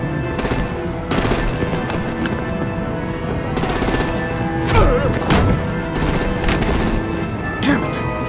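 Gunfire and artillery in the Batman: The Enemy Within video game: loud rapid bursts of automatic fire repeat in clusters, with heavier thuds mixed in and continuous battle noise between them.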